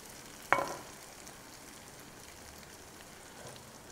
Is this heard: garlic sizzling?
yes